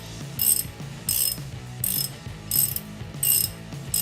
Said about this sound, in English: And once you've got a few turns, you can switch to your ratchet